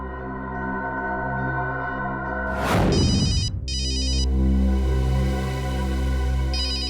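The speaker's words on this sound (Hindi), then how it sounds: "हो सकता है, ये अखिल का फोन है, उठाइए।" A telephone rings with an incoming call, a repeating electronic ringtone that cuts in sharply partway through, then trills in bursts, loud and close over a sustained musical background.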